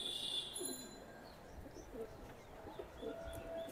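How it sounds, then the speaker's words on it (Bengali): A pair of Giribaz pigeons coo softly in a few low, brief calls over faint background noise, with high thin tones near the start. "মাশাআল্লাহ খুব সুন্দর এক জোড়া কবুতর।"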